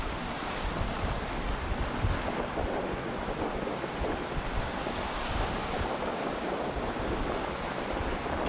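Waves wash onto South Beach in a steady, dense roar of surf mixed with wind buffeting the microphone, continuous and fairly loud throughout with no speech.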